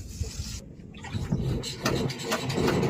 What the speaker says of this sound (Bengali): তো নৌকা আমাদের স্টার্ট দেওয়া হলো।